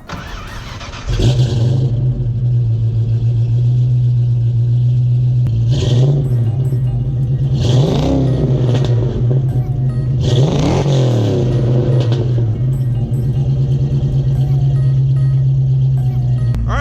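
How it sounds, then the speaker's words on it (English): Supercharged Ford Fox Body Notchback V8 starting up and settling into a loud steady idle close by, interrupted by several sharp throttle blips that rise and fall back, with a voice briefly heard. "So this thing here has got to easily be in the 400s, I would think, with the supercharger. Let's see how it sounds."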